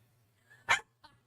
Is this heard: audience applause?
no